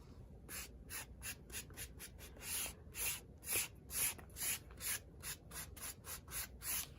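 Gesso being scraped across a thin Bible page, a quiet, close series of rhythmic dry rasping strokes, roughly two or three per second, each a short papery scrape with brief pauses between.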